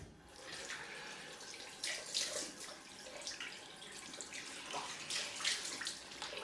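Water runs and splashes from a tap while alum is rinsed off a freshly shaved head, a soft, uneven gushing with brief louder surges.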